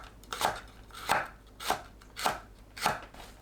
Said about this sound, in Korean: 아사기 고추를 둥글게 썰어주세요.